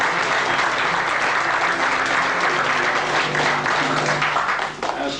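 A full audience claps loudly at a magicians' convention following a magic act, the dense applause holding steady before thinning slightly at the end.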